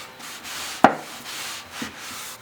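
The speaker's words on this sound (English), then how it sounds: "I'm just going to go ahead and wipe this section off." A cloth wipes paint off a wooden section of furniture being distressed, making soft rubbing strokes with one sharper brush-like swipe near the start and a fainter one later, close by and quiet.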